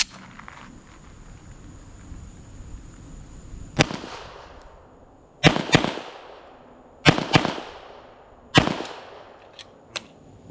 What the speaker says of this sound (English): I'm gonna fire a few rounds, kind of get a feel for the gun again.